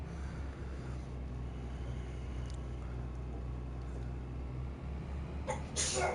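A single sneeze bursts out near the end, close and loud, over steady low engine rumble inside a farm vehicle cab.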